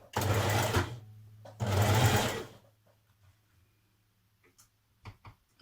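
A sewing machine runs a narrow zigzag stitch across a scrap of stretch fabric in two loud, sustained bursts of about a second each, then falls to a quiet hum with a few faint clicks near the end.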